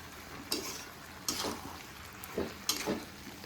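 Ginger garlic paste being stirred in a frying pan, with a soft sizzle beneath several separate scraping strokes of a spoon spaced irregularly across a few seconds, close and fairly quiet.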